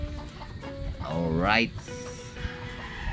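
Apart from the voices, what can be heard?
chickens clucking at dawn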